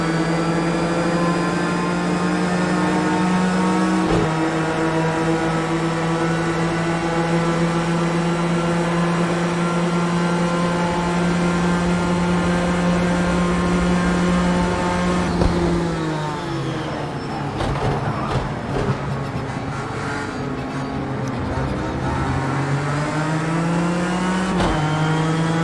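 Racing car engines in Project Cars 2, a loud, close, steady high-revving drone with clear harmonic whine, pitch dipping and climbing through gear changes and braking midway, no talking.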